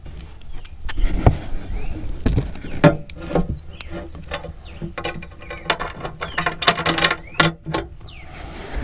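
A ratchet clicks in quick irregular bursts while working the bolts of an Ultra Racing rear strut bar on a Toyota Yaris, with close metallic clatter and handling noises in between.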